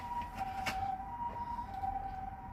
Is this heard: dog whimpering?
no